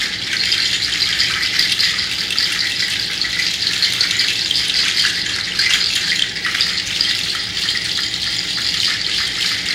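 Seed shakers played together to mimic rain, a loud, dense, continuous rattling wash of tiny seeds that sounds like heavy rainfall, steady for the whole stretch with no talking.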